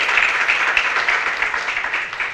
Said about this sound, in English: So again, I applaud you.